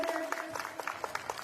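A crowd applauds at a political event in Uttarakhand, dense rapid clapping that holds steady throughout, with some voices mixed in.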